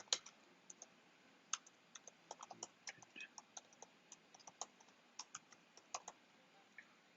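Quiet, steady typing on a computer keyboard, a run of light clicks in irregular bursts with a few sharper taps, heard close and alone with no talking.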